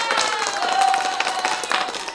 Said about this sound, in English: He needs to get an applause as well